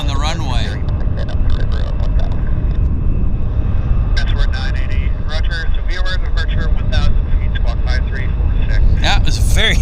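A fixed-wing airplane rolls nose-high down the runway at Vancouver Airport, its engine roaring loud and steady throughout while someone talks over it.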